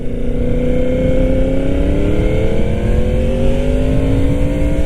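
A 1000cc motorcycle with a custom exhaust revs loudly and steadily nearby, its throaty exhaust note rising gradually in pitch as it accelerates.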